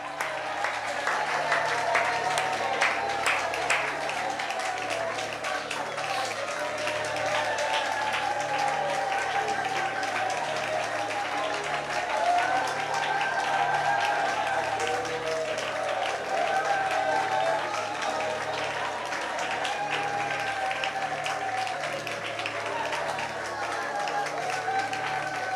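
A church congregation applauds at a pastor's prompt, a dense, sustained crowd clapping that fills the space evenly for many seconds, with voices mixed in among the applause.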